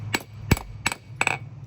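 A hammer strikes a small scrap-metal knife during hand forging, four sharp ringing blows spaced roughly a third of a second apart, close and clear with no talking.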